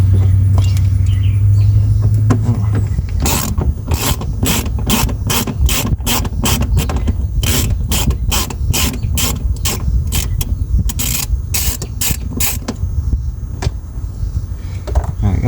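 A ratchet backing out screws on a 2004 Chrysler Town and Country van, a close, loud series of evenly spaced clicking strokes after a brief low hum, continuing steadily for most of the stretch.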